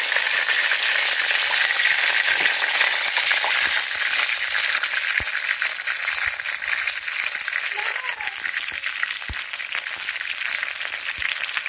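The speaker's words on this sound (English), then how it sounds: "so they're fried on both sides, so now we're gonna get them off and put them down and get ready to fry the next set" Chicken pieces fry in hot oil in a pot for a Jamaican home-style chicken dinner. The sizzle is a bright, continuous hiss heard close, with scattered pops and occasional clinks of stirring.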